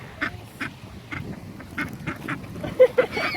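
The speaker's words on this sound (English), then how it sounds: "Well, the ducks don't say please." Ducks being fed by a family on a beach day quack in short, loud bursts, several calls spaced irregularly and close by, with little talk.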